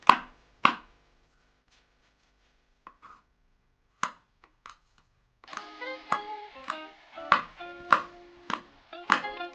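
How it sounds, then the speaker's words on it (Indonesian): Knife chopping chillies, tomatoes, shallots and garlic on a cutting board: a few isolated sharp chops early, then a quicker rhythmic run of close, crisp knife strikes. "Cabai, tomat semuanya dipotong teman-teman ya."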